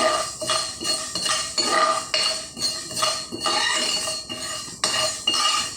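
Fenugreek seeds are dry-roasted in a pan on a low flame until reddish, a loud, close series of rhythmic metallic scrapes and clinks as a utensil stirs them against the pan, with no voices.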